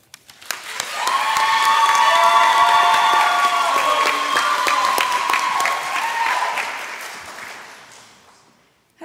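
An audience at a school awards day ceremony breaks into loud, sustained clapping with cheers and whoops, swelling quickly, holding for several seconds, then fading out.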